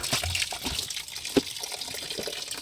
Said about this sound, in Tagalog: yung tubig natin